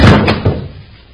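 A door on an old-time radio space adventure show opens or shuts with a single loud close thud, followed by a fading room tail.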